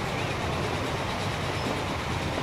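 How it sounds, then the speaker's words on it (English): A train rolling along rails in the Transport Fever simulation game, giving a steady, dense rumble and wheel noise that holds evenly throughout with no talk. "You can see this train is shorter, because I think this is the last carriage on it."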